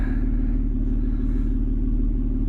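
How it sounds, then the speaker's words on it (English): A fourth-generation Acura TL sits idling nearby, a steady low rumbling drone that holds constant throughout with no voices. "I'm leaving my car running because my battery was dead"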